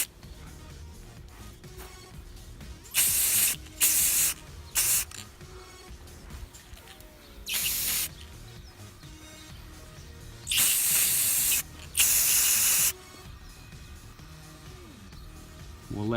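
Short hissing bursts of spray paint coat a fuel pressure regulator part on a makeshift holder, several separate sprays of one to two seconds each with quiet gaps between.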